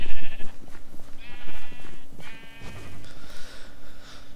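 Sheep in the video game Minecraft bleat repeatedly, several overlapping baas in quick succession, loud and close, alongside clicking game sounds and no talking.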